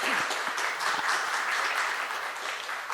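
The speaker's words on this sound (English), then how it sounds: "I think Captain Yadav deserves a round of applause." Steady audience applause at a foundation day anniversary celebration fills the room, a dense even wash of many hands clapping at moderate distance with no pauses, no voices standing out.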